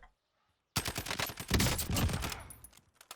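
Dense bursts of automatic gunfire in Call of Duty: Modern Warfare Warzone erupt after a brief near-silence, rattling loudly and continuously for a couple of seconds before thinning into scattered shots.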